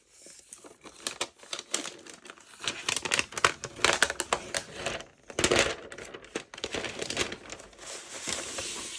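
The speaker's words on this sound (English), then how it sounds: "let's unwrap the laptop" Plastic wrap being peeled and torn off an M2 MacBook Pro 16-inch laptop, bursts of loud crinkling and crackling close up, irregular and uneven in rhythm, with no talking.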